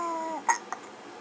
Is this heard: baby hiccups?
yes